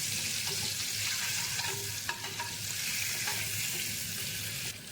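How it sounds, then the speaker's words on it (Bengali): Two eggs coated in salt, chili powder and turmeric fry in a pan, with a constant close sizzle broken by scattered scraping and tapping as they are turned; no voices. "এইভাবে সুন্দর করে ডিম দুটোকে ফ্রাই করে তুলে নিচ্ছি।"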